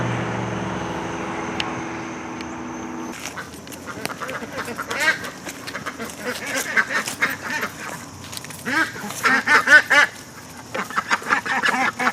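Farm ducks quack repeatedly, starting faintly under a low mechanical hum and then growing into a busy, overlapping chorus of nearby quacks and honks.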